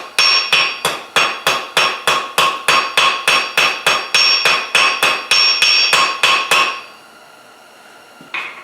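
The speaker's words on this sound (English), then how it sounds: "Now we're going to hammer that bottom third." A hammer strikes a folded steel leaf on an anvil during forging, about twenty loud, evenly paced metallic blows in a steady rhythm. The blows stop abruptly, leaving a faint ring and then one last light tap.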